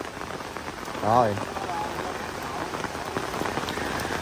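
Heavy rain pours steadily at a tomb site in Vietnam, a dense, even hiss of drops hitting surfaces. A short spoken word rises briefly above the downpour.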